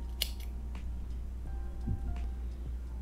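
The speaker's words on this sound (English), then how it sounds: "I'm gonna cut the yarn right here" Scissors snip through crochet yarn at a colour change in a sweater project, making a couple of crisp, close cuts and small clicks over a faint low hum, with no voices.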